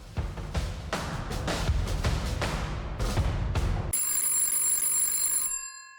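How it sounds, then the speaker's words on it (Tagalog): Telephone ringtone cutting in after a dense stretch of loud, booming hits, a bright sustained electronic tone that holds for about a second and a half before stopping. "Ringtone."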